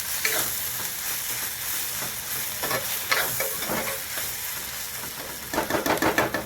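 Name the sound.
stirring spices in a frying pan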